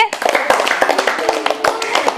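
A quick burst of audience applause for a correct answer on a children's game show at a government LP school, with brisk, uneven claps close by and voices mixed in.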